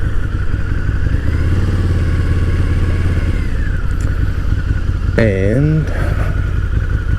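A Harley-Davidson V-Rod with its oversquare engine runs steadily as the rider cruises past the Biloxi Lighthouse, a continuous low engine drone with wind noise, briefly overlaid by a rising tonal whine or horn-like sweep near the end.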